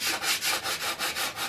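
Epoxy-set parts of a Stormy 45 model are sanded by hand in quick, even back-and-forth strokes, about seven rubbing passes in a steady rhythm, close up and alone.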